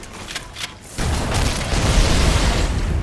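A chain-reaction explosion in Halo Anniversary on the Library level: after a quiet second with small pops, a loud, sustained blast erupts and roars on with rumbling low end to the end.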